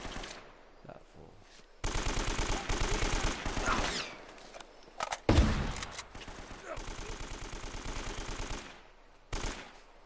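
AK rifle fire in the video game Uncharted: Drake's Fortune, with long rapid automatic bursts punctuated by a few single shots and gaps, loud and close throughout.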